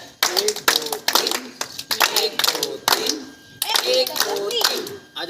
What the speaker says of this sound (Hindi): स्काउट ताली शुरू करेंगे, शुरू कर।